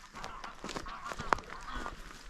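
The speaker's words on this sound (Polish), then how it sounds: "Kolejne ptaki się kłócą" Geese honk and squabble in a noisy flock, with overlapping harsh calls and one sharp, loud squawk standing out midway.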